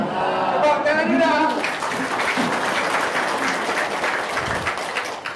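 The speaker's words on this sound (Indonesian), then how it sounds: "Kita tepuk tangan dulu dong untuk Mbak Lisa dan Mas Abi" Applause from an audience at a talk, clapping for Mbak Lisa and Mas Abi: dense, steady clapping that fills the room for several seconds, with voices mixed in early and the clapping thinning toward the end.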